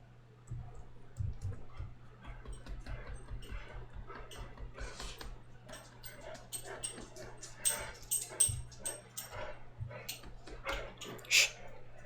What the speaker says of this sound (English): my dog's gonna have a fit